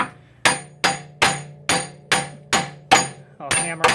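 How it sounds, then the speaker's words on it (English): Eight sharp metallic hammer strikes on the rear wheel bearing flange of a 2007 Mercedes E350 4-Matic ring out in a steady rhythm, each blow loud and close with a brief ringing decay, no talking. "hammer on this a little bit from all four sides just to start walking this out"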